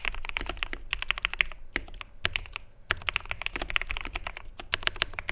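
Quick, crisp typing on a custom ikki68 Aurora mechanical keyboard, bursts of clacky keystrokes with short pauses, close and clear with no talking.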